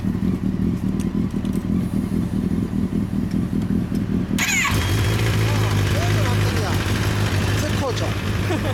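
A 2011 Kawasaki ZX-10R Ninja sport motorcycle engine idles with a rough, pulsing rumble, then its tone shifts and settles into a smoother steady drone, with people talking nearby.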